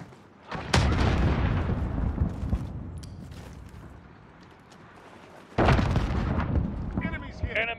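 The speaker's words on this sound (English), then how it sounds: "Grenade out!" A grenade blast in a military video game, one loud booming burst near the start and a second heavy explosion later, amid ongoing gunfire and battle noise with voices talking in the background.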